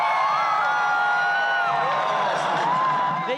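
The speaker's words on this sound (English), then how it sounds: "they could hear him, and they could cheer for him" A large crowd at Barack Obama's presidential inauguration cheers and whoops continuously, with shouts rising over a dense roar of many voices, loud and sustained throughout.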